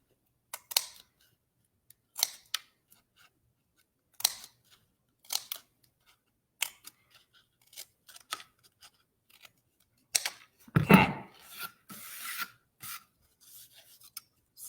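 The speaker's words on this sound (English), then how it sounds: "So I am just cutting triangles out" Scissors cut triangles from paper for handmade cards, with short crisp snips and rustling paper scattered across the stretch amid near silence, plus a longer crinkly handling noise toward the end.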